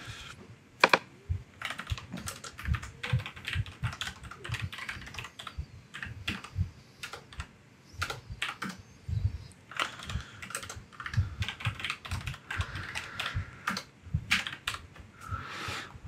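Rapid typing on a computer keyboard, clusters of crisp clicking keystrokes in irregular bursts with brief pauses, close and fairly quiet, no voices.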